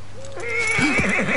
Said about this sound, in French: Ce brave cheval n'est-il pas merveilleux?